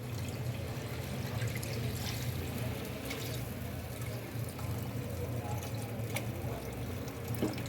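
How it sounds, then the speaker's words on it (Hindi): Homemade beef broth (yakhni) poured into a pot of beef pulao, a steady liquid pour and splash running throughout at moderate level over a constant low hum of household background. "अब मैं इसके अंदर ऐड करने लगी हूँ यखनी।"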